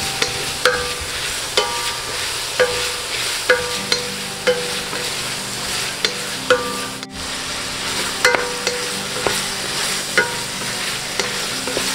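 Bacon and sausage for carbonara cook in a pan with a steady sizzle, punctuated by regular sharp knocks and scrapes of a utensil against the pan, close and fairly loud.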